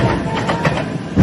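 A Mumbai local train running into a station, a loud close rumble with rhythmic clattering of wheels over rail joints, brief and continuous.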